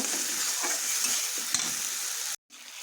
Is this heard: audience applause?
no